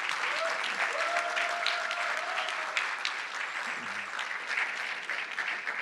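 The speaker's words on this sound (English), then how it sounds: "really big applause." A conference audience at a cryptocurrency event gives sustained, dense applause. It holds steady throughout, with a brief tonal sound and faint voices mixed in.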